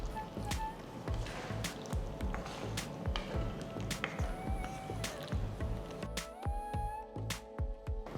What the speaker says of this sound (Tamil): ஸோ இதில் அடுத்து நம்ம கொஞ்சம் புளி தண்ணி ஊற்றிக்கலாம்